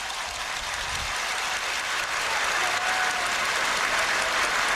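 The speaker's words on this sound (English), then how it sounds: "Big applause from everybody in the stadium." A huge stadium crowd at a national day parade applauds in one continuous, dense wash of clapping that stays loud and even throughout, swelling slightly toward the end.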